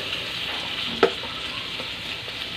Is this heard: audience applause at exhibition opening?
no